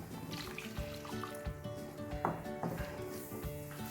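About one and a half cups of water poured from a mixer jar into simmering kadala (chickpea) curry: a soft, close splashing trickle with light clinks of the jar against the pot.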